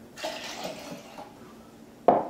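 Half a cup of water pours into a small blender in a steady, splashing stream for a couple of seconds, followed by a sudden louder clatter near the end.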